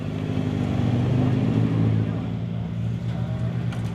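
A home-built off-road 4x4 competition vehicle named Butterfly, built in 2013, drives away at a 4XTR event in Parys with its engine droning steadily and loudly, then easing slightly toward the end, under a commentator's voice.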